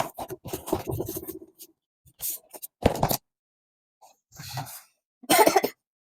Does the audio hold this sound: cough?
yes